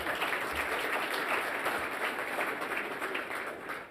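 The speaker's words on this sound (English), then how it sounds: "Yep, you can clap for that." Audience at a fire conference closing plenary breaks into dense, sustained applause, a steady wash of clapping that stays loud throughout and eases slightly near the end.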